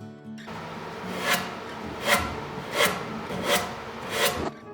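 A wet washcloth rubs and scrapes steadily against painted wood, with rhythmic harder strokes roughly every second, close up and with no talking.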